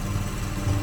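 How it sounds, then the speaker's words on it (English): A motorbike engine idles steadily after a carburettor repair, a close, even low-pitched throb with no talking over it. "Oh, this is idling so nicely now."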